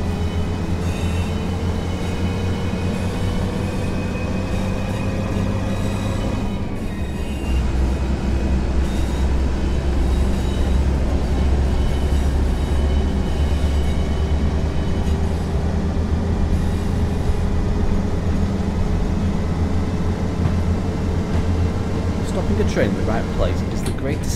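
A Class 142 Pacer train in Train Sim World 3 hums and rumbles steadily at close range while approaching a station, its motor tone slowly rising and falling, with a brief squeal near the end.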